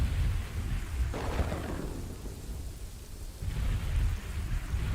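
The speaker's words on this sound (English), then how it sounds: "That lightning sounds impressive." Stormy weather in the medieval city builder Kingdoms and Castles, steady rain hiss with rolling low thunder that swells, fades briefly in the middle, then rumbles back up.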